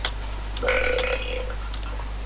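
A single drawn-out burp, fairly loud and gurgling, rising over a steady low hum, with no talk during it.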